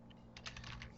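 Keys clatter on a computer keyboard as Shift and Enter are pressed while coding in JavaScript, a quick cluster of soft close clicks over faint room hum.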